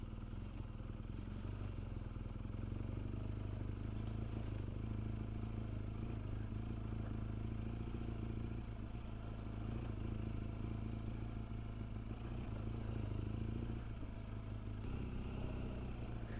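A heavy BMW GS 1200 motorcycle rides off-road through slippery sand, its engine droning steadily and fairly loud throughout with some clatter and wind, no talking over it.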